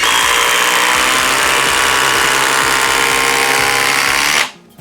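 A Flex cordless drill with a 5 amp-hour stacked lithium battery in speed 3 drives an 8-inch timber lock screw, giving a loud, steady motor whir with a rapid ratcheting pulse that cuts off sharply just before the end.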